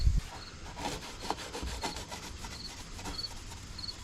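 Silver paint on a Nissan 300ZX car body is scuffed by hand before priming, giving a steady, close rubbing and scraping with repeated back-and-forth strokes at moderate volume.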